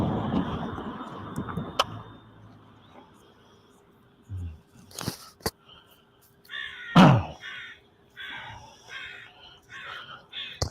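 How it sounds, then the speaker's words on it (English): Several crows cawing outdoors in a rapid series of harsh calls in the second half, with a loud thump and scattered knocks beforehand and faint background noise. "I hear the crows."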